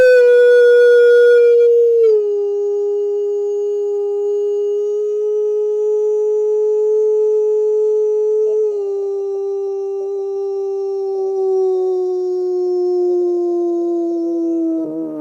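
A dog gives one long, loud, sustained howl close by, with the pitch sliding down slightly and wavering as it holds for about fifteen seconds.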